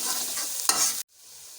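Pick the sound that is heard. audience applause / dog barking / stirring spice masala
stirring spice masala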